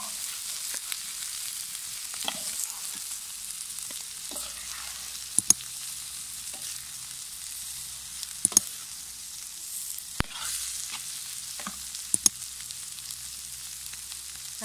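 Lamb liver sizzles and fries steadily on a hot saj pan, a continuous bright hiss broken by occasional sharp clicks and scraping stirs.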